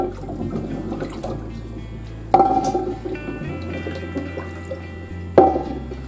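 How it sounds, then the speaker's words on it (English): Potatoes rinsed under cold running water in a kitchen sink, a steady trickle and splash with two sharper knocks as they are handled. "Rinse your potatoes well in cold water."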